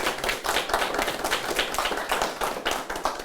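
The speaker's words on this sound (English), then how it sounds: "We can stop and just give a round of applause right there." Audience applause at a community kitchen dedication: dense, sustained clapping from a crowd throughout, loud and close with no speech over it.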